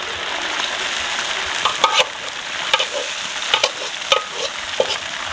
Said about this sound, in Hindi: अब हम डालेंगे इसमें लहसुन अदरक का पेस्ट